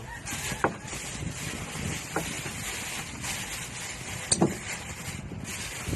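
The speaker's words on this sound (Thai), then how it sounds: "ลมแรง" Strong wind buffets an outdoor spot where black plastic is being laid for a pond, a steady roaring rush across the microphone with occasional gusts and faint knocks.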